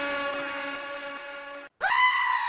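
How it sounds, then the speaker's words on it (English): Goats bleat in two loud, nasal, wavering cries, the first long and drawn out, then a short gap before a second rising bleat, heard close with no talking. "Them damn goats."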